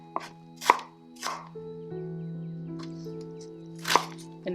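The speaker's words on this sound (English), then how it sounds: "Just chop the onion" A kitchen knife chops through a sweet onion on a cutting board, giving a few sharp, crisp chops spaced about a second apart, close and clear with no talking.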